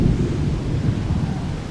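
A heavy tropical thunderstorm with continuous deep rumbling thunder and rain, a dense, steady roar without breaks.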